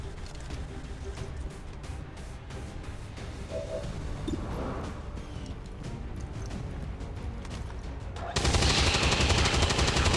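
Rapid gunfire from the XCOM 2 video game, a string of sharp shots crackling in quick bursts over a steady background, ending in a louder, sustained roar.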